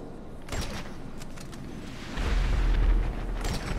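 Rumbling munition-drop explosions and scattered gunfire in a combat video game, distant booms rolling under a heavier low-frequency blast that swells partway through.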